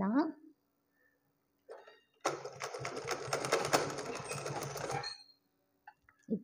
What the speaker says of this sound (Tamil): இந்த படிமான தையல் தெரியாத அளவுக்கு நான் வந்துட்டு தையல் போடுறேன்